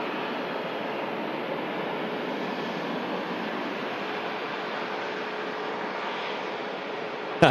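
A long-haul airliner takes off from Manchester Airport bound for Houston, heard as a steady, moderately distant jet roar that stays even throughout and ends in a brief sharp knock.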